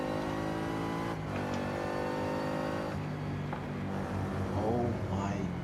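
Ford Raptor truck downshifting and accelerating hard in Forza Horizon 5, a steady loud engine drone with rising harmonic pitch and gear changes, continuous throughout.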